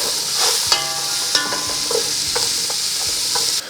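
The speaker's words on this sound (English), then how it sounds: "So we're just going to cook these until the onions are translucent" Onions and carrots sizzle steadily in a pot as the base for an elk stew, a constant close frying hiss broken by a few sharp clinks and scrapes of stirring, with no talk.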